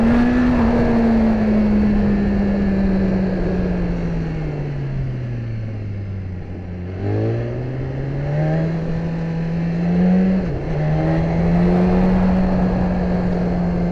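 A BMW S1000RR motorcycle engine pulls steadily and loud, its pitch sagging and climbing as it shifts through gears, with a clear gear change midway and another near the end, no talking.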